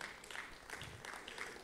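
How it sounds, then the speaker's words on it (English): Applause from a stand-up comedy audience at a Nigerian comedy show, a quiet, steady patter of many hands clapping at a distance. "If you're passionately Nigerian, give yourself a round of applause"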